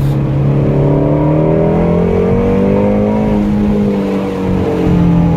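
A GT350 on a test drive after fitting two new rear tires, its engine revving hard and close, a loud steady roar that climbs in pitch and then holds.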